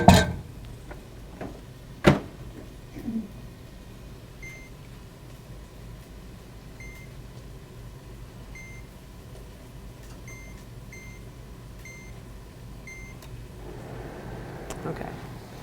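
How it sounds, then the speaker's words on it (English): A microwave oven zaps vegetables until bright green, starting with a few clicks and button beeps, then a steady low hum with occasional faint beeps, while people talk nearby. "So I'm going to put these in the microwave and just zap them until they're bright green."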